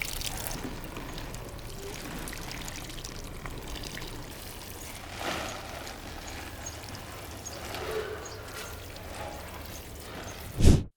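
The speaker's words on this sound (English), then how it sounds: "Then I water them to provide the plants with their initial moisture." Water pours steadily onto soil in bags where sweet potato tubers have been planted, a continuous close splashing trickle with a soft thump at the very end.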